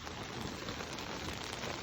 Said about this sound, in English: So it's raining outside, but it's really not bad